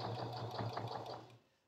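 A sewing machine back stitches a fabric bowl cozy in a short, fast steady whir of needle strokes, close and fairly quiet, stopping abruptly near the end.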